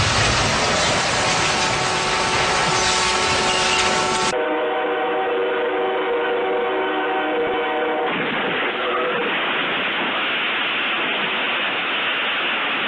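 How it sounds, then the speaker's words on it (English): 118-car freight train bearing down on a crossing where a truck trailer is stuck, loud continuous roar and rail noise with a sustained horn-like tone, abruptly shifting in character partway through. "as a 118-car freight train bears down"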